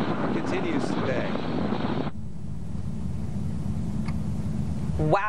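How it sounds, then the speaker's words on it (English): Strong wind buffets an outdoor microphone during a storm with snow and cold, producing a steady, loud roaring rumble throughout, with the tone shifting abruptly partway through and a brief voice at the end. "Those sound like some pretty intense winds."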